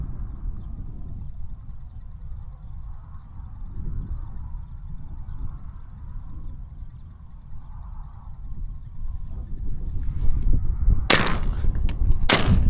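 Two sharp, loud shotgun blasts from a .410 ring out close together near the end of a pigeon hunt, following a long stretch of low outdoor rumble and wind.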